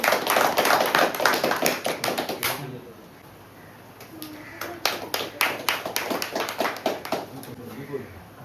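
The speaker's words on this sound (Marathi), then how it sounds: "टाळ्या वाजवा सगळ्यांनी." An audience claps at a school notebook-distribution event for students: a dense burst of close, sharp hand claps, a brief lull, then a second round of scattered, uneven claps.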